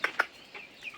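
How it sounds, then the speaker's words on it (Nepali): Home-raised chickens on a rural farmyard give two short, quick clucks close by, followed by softer faint calls. "सबै घरमै निकालेका कुखुराहरू हुन्।"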